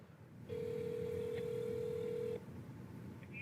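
A telephone line gives a single steady electronic tone lasting about two seconds before a phone call, heard faintly and on its own.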